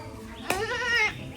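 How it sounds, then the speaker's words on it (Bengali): A goat gives one drawn-out, wavering bleat at close range, loud against quiet outdoor background noise. "কিরম করে ডাকছে ছাগলটা?"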